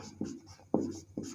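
Chalk or marker writing on a board during a Hindi ray optics physics lesson, three short scratchy strokes in quick succession, close and fairly quiet with no talk over them.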